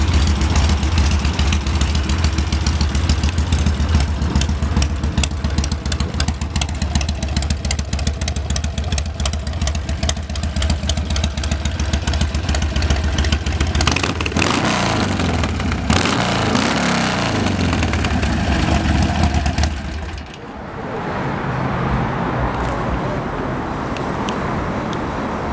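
A 2006 Harley-Davidson Sportster 1200 Custom motorcycle engine running loud and close with a rapid steady rumble, revving before dropping to a softer, more distant idle near the end.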